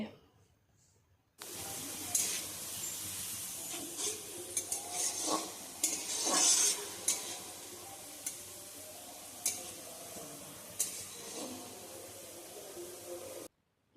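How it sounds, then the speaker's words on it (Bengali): Chopped onions sizzle and fry in hot oil while being stirred for restaurant-style masala chicken, a steady hiss with scattered scraping and clinking of the spoon against the pan, moderately close, some faint background voice. "এবার পেঁয়াজটাকে তেলের মধ্যে নাড়াচাড়া করে ভেজে নেব যতক্ষণ না পেঁয়াজের কালারটা চেঞ্জ হয়ে বাদামি কালার হয়ে আসে"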